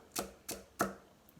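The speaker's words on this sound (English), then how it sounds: "And I'll cut it into strips." A knife cuts celery into strips on a cutting board, three crisp, evenly spaced chops close by in quick rhythm, followed by a faint fourth tap.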